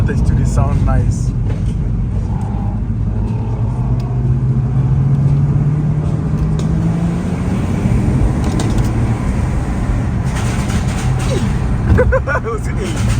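A Nissan R32 revving at a street car meet, engine rumble rising and falling amid a noisy crowd, with people talking loudly over it.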